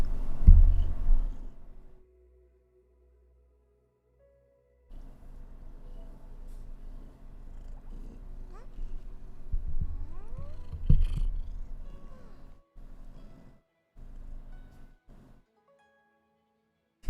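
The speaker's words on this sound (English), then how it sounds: "She is purring." A cat purrs with a low, soft, continuous rumble close to the microphone, broken by brief gaps and a few small bumps of handling noise.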